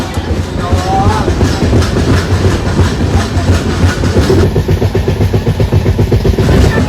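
The Tamralipta Express train rolls slowly through Mecheda station without stopping, with steady clickety-clack from the wheels and a constant loud rumble, heard close up from on board.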